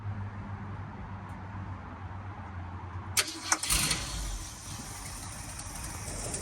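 A 1974 Ford F350 dually ramp truck with a new fuel pump cranks and tries to start, a sudden mechanical burst midway rising into a rougher, louder engine rumble over a low background hum.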